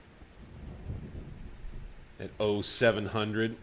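Rain falling in the Grand Tactician Civil War strategy game, a soft steady wash under low rumbling, then someone talks over it for the last second or so.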